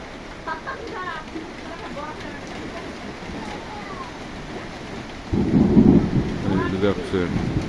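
A thunderstorm with strong gusty wind and rain: steady rushing rain and wind noise, then a deep rumble of thunder rolling in partway through, with a voice talking over it.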